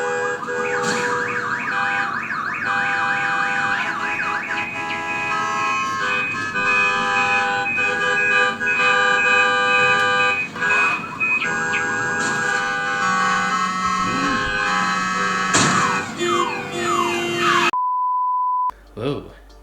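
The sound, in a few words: car horns honking in traffic, from a video game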